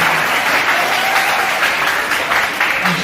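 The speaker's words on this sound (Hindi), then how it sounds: "अभी अपने सारे बच्चे अपने लिए जोरदार ताली बजा लो।" Students at an information session on the Bihar Student Credit Card scheme clap loudly for themselves; the applause is a dense, continuous roar of many hands that lasts throughout.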